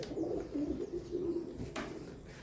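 Pigeons coo steadily inside the Morgan Lewis windmill, a sugar mill in the Caribbean, with low repeated throaty calls carrying through the whole stretch and a brief rustle near the end.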